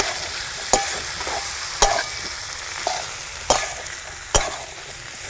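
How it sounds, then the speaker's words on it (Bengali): Boiled peas and potatoes being stirred with spices in a pan, soft sizzling under sharp scraping spoon strokes that strike the pan about five times at irregular intervals, with no talking. "দিয়ে এবারে যে মশলাটার সাথে আমি ভালো করে এইভাবে মিক্স করে নেব"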